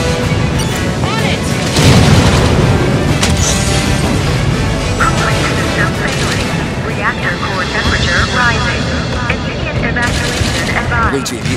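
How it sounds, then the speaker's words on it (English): Reactor explosion in the video game Halo 5: Guardians, a loud, sustained roar of blasts and rumbling booms mixed with rapid gunfire and game effects across the whole stretch. "Banshees aren't fast enough to get clear of the reactor explosion."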